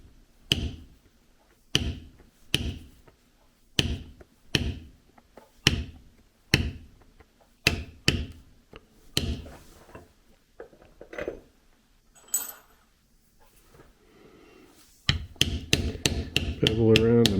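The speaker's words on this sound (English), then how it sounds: "rounded smooth beveler" A mallet taps a rounded smooth beveler along carved leather in a long series of crisp, close strikes. A short stretch of softer scraping and handling comes partway through, then a rapid closing burst of quicker taps.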